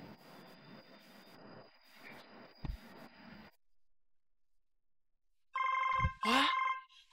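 A telephone gives a short, loud electronic ring near the end, after a stretch of muffled sounds and near silence.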